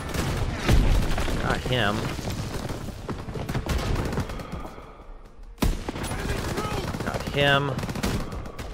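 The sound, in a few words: gunfire in video game Call of Duty: WWII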